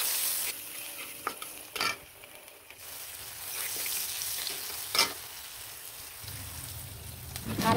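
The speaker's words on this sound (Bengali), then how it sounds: "এখানে কিন্তু গরম তেলের মধ্যে কিছু কিছু করা পেঁয়াজ দিয়ে দিলাম" Chopped onions fry in hot oil, giving a steady, fairly quiet sizzle close by, with a few sharper clinks and bumps of stirring along the way.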